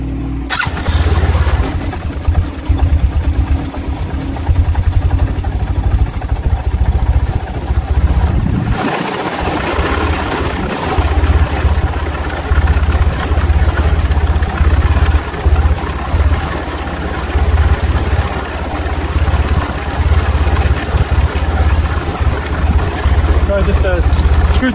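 Small engine idling steadily and loudly up close after its idle control was turned up, a constant low throbbing rumble that shifts once early on and then holds evenly to the end.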